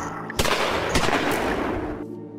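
Gunfire in a roleplay video game set at a high school, a burst of loud overlapping shots with two sharp cracks standing out, carrying on steadily for about two seconds before cutting off.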